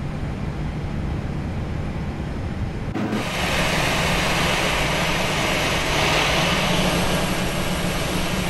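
Engine start on an Airbus A321 in the Prepar3D flight simulator: a steady cabin roar with a faint high whine, which jumps to a louder, fuller drone about three seconds in and then holds constant.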